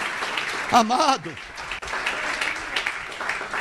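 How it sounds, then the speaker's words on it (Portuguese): In a Brazilian church communion service, a congregation bursts into applause, heard as a bright wash of clapping across the room while someone speaks loudly over it at the start, and the clapping continues underneath afterward. "Dê um aplauso ao teu Deus."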